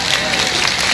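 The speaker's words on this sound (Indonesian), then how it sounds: "tepuk tangan buat Pak Wabub" An audience at an Islamic religious gathering claps in a dense, continuous burst of applause that fills the entire short moment.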